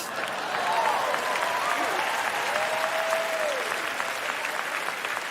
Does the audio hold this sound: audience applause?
yes